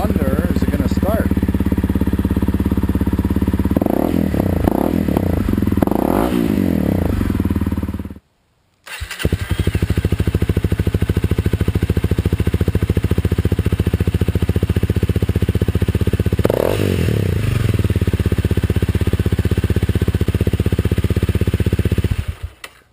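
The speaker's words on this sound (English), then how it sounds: "That sounds like a freaking dirt bike." A motorcycle engine starts and revs loudly close by, rising and falling through a few throttle blips, then cuts out briefly before restarting and running at a steady, throbbing idle.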